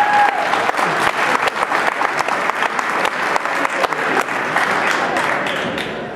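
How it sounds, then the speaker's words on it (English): Applause at a 1978 state championship team reunion ceremony, a crowd clapping in a moderately dense, slightly uneven patter with distinct individual claps, fading a little toward the end. "I hope you can give him a big hand, a round of applause"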